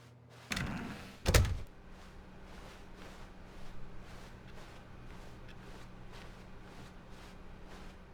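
Two heavy door thunks, about a second apart, in an empty office of The Stanley Parable Ultra Deluxe, followed by quiet room tone with faint footsteps.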